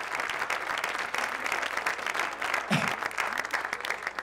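An audience at a talk about cannabis and creativity breaks into steady applause lasting several seconds, moderately loud and dense throughout, with no voice over it.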